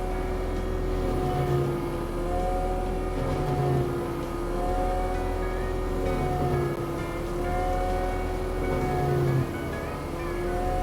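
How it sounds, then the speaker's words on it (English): A skid steer running an HD mulcher attachment, its piston motor holding a steady loud drone with a faint rising-and-falling whine that repeats every couple of seconds, close and continuous with no pauses. "that piston motor spools up really quick"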